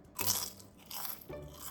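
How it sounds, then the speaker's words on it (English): Homemade microwave potato chips crunch loudly up close, with a sharp bite followed by a couple more crisp crunches as they are chewed. "Listen to that crunch."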